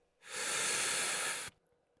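One heavy, hissing exhale lasting a little over a second, made by a man mimicking ominous atmospheric breathing. It is loud and close, with sharp onset and cutoff and silence on either side.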